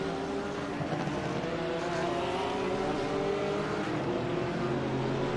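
GT3 race cars, a BMW and a Porsche, running on track at Catalunya, with a steady droning engine note that shifts slightly in pitch as they pass, held at a constant moderate level throughout.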